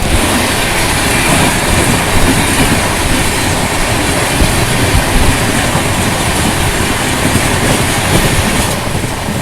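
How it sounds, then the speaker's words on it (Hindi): Inside a general compartment of a Duronto Express travelling at speed near Baleshwar station in Odisha, as premium express trains cross. A loud, continuous rumble and rattle of wheels on track goes on unbroken, without speech. "कुछ ही देर में अपनी ट्रेन के साथ क्रॉसिंग होने वाला है दो प्रीमियम ट्रेन"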